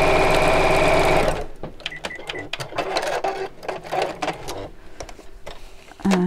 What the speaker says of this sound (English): So again, just top stitching across each side, about a quarter of an inch away from the seam.